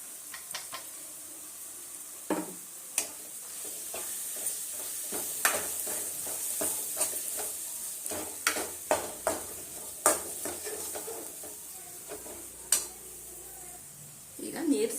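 Peanut and sesame powder being stirred into brinjal frying in oil, a steady sizzle under repeated scraping and clinking strokes of a spoon against the pan, close and fairly loud, no talking.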